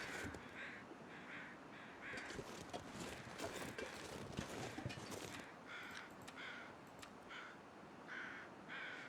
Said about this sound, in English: Okay, I hear crows.